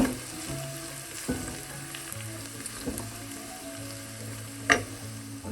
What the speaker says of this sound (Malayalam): ഒരു ടീസ്പൂൺ ഉപ്പും കൂടി ചേർത്ത് നല്ലതുപോലെ ഒന്ന് വഴറ്റിയെടുക്കാം.